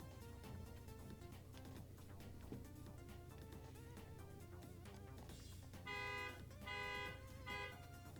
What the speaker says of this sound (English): A car alarm just started and then ended